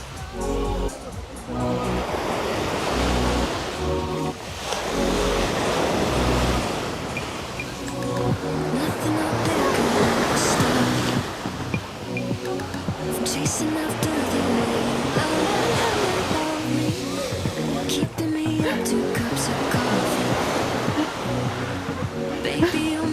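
Sea waves at Cleopatra beach in Alanya, Turkey, rolling in and breaking in repeated loud surges with a constant wash of surf between them.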